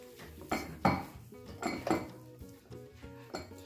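Boiled potatoes are mashed in a bowl with a utensil, several dull squelching presses with light clinks against the bowl arriving in an uneven rhythm, close and fairly quiet.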